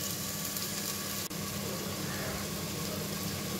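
Spices being fried down in a pot for a Bengali New Year meal, a steady broadband sizzle holding at an even level throughout, close and continuous with no talking.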